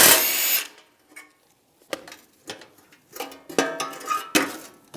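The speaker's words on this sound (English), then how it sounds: "Now you can drill the rivets out on the other side." Power drill boring out rivets on the rear side bumper end of a 2007-2013 Chevrolet Silverado 1500, with a loud opening burst followed by several short, separate drilling bursts and metallic clatter between them.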